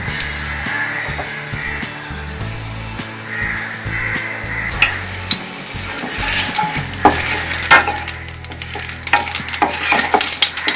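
Whole spices — bay leaves, cumin seeds, cardamom, cloves and cinnamon — sizzling and crackling in hot oil for tempering, with stirring scrapes in the pan, growing louder and denser in the second half.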